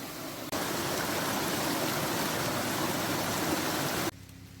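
River water rushes in a steady broadband hiss that starts and stops abruptly, with nothing else audible.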